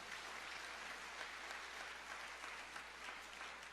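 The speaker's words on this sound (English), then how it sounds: "So I think he deserves another round of applause for that." Audience applause at a tribute to a pioneering Canadian reggae artist: steady, even clapping from a crowd, sustained throughout and heard from a distance, fairly faint.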